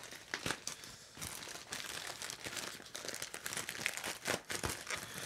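Plastic wrapping around a newly arrived guitar pedal package crinkles and rustles steadily, with repeated sharp crackles and brief tearing bursts, close and fairly loud, no talking.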